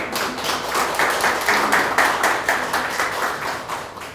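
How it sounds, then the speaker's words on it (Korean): Applause at the opening of an art exhibition at a gallery in Insadong, Seoul, a moderate round of clapping from a small gathering that rises and falls in waves. "큰 박수 부탁드리겠습니다."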